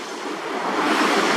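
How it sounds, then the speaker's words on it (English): Choppy ocean surf rolls in as a steady broadband wash that swells slightly louder toward the end, with some wind noise on the microphone and no voices. "you can see the chop waves, and this is a chop coming in now"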